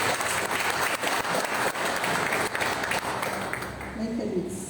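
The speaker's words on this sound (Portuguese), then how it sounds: "Você pode aplaudir o Senhor?" A Baptist church congregation breaks into loud, sustained clapping during a Wednesday service, with voices mingling in the crowd and the applause easing slightly near the end.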